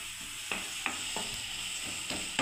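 Papaya curry with dried chilli powder and spices sizzles and fries in a pan, with several scraping stirs of a spoon at steady intervals, close and fairly quiet.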